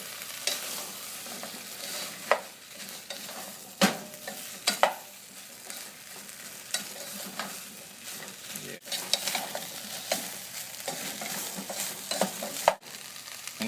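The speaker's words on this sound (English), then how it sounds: "just take the lid like this and just rotate the vegetables just to make sure that the spice is getting onto each vegetable very well" Aloo gobi vegetables with spices being stirred and turned in a lidded frying pan, soft sizzling under irregular scrapes and clatters from the stirring, with a few sharper knocks and no talk.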